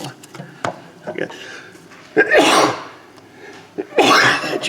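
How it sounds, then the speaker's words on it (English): In a garage, during work on a Charger, a person lets out two loud, sharp sneezes about two seconds apart, with quieter clunks and knocks in between. "No, I had to sneeze."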